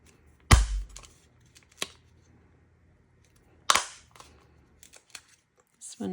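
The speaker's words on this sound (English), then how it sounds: "you're going to cut all of these out with a 1/4 circle hand punch" A quarter circle hand punch snaps through paper while cutting snowflake patterns: three sharp, close punch clicks spaced a few seconds apart, with faint handling ticks between them.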